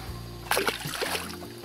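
A fish is released back into an oxbow lake of the Narew river near Bronowo and hits the water with a short, close splash, followed by light sloshing.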